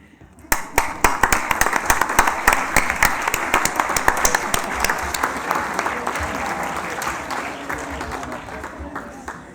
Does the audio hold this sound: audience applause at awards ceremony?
yes